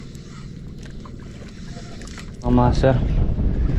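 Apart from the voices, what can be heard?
strong wind at sea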